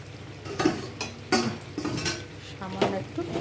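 A lid comes off a cooking pot of brinjal and spinach with several close metallic clanks and scrapes spaced about a second apart, over a faint sizzle.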